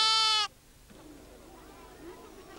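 Sheep in southern Morocco giving a single loud, close bleat lasting about half a second, followed by quiet outdoor background.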